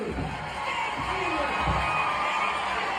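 A crowd at a community organization event cheers and whoops, a dense, sustained roar of many voices with a few shouts rising above it, moderately loud and continuous.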